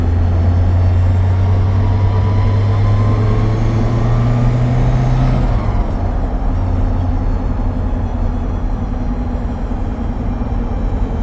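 From inside a Lotus race car on a busy road, a loud steady engine drone holds one pitch, then drops and shifts about midway as the car changes speed, continuing without talk.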